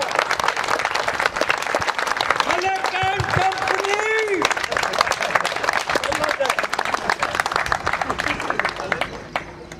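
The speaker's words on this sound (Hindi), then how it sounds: "तो उसके लिए मैं चाहता हूं कि तालियों की भरमार हो इनके लिए।" Crowd applause rings out at an Independence Day 2020 celebration in a residential housing society, loud, continuous clapping under a voice talking over it, with the cheering crowd sustaining the noise before it tapers away.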